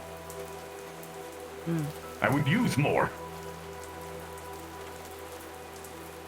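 Steady rain falls in a VRChat game world as a continuous soft hiss, with a voice speaking briefly over it partway through.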